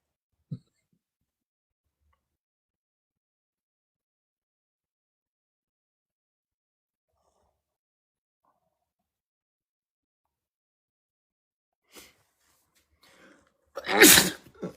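A single sharp human sneeze bursts out near the end after a long near-silent stretch, loud and close, preceded by a faint short intake.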